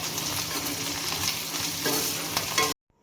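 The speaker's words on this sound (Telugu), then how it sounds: "ఎండుమిర్చి కూడా వేసుకొని ఒకసారి ఇదంతా కలుపుకోవాలి." Okra fry being stirred in a hot pan with dried red chillies, a loud close sizzle with scraping spatula strokes that cuts off abruptly near the end, no voices.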